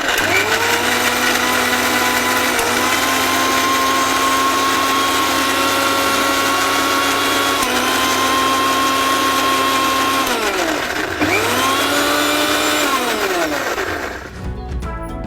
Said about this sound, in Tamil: தக்காளி அரைக்கிறது நம்ம பெரிய ஜாரில் எடுத்துப்போமா